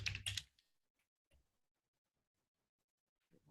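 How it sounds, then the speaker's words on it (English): Typing on a computer keyboard into a spreadsheet, a quick close burst of key clicks at the start, then near silence with a couple of faint taps and a soft knock at the end. "I'm just going to type it into my spreadsheet so you can paste it"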